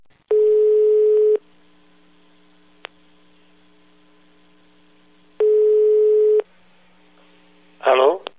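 Ringing tone of a phone line during a prank radio call, two long steady tones separated by silence and low hum, with a brief voice at the end.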